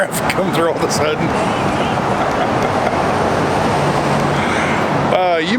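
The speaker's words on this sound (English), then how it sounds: "A lot of traffic coming through all of a sudden." A steady broadband rumble of road traffic streams past near Jasper and Lake Louise, continuous and fairly loud, while someone talks over it at the start and end.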